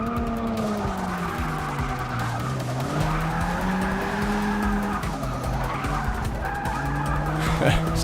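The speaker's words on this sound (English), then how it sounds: "I was gonna try and drift that turn, but then I was just way late trying to brake there" Race car tires skidding and squealing through a turn in the Forza Motorsport 6 racing game, with a continuous engine roar and rising and falling squeal tones running steadily through the whole stretch.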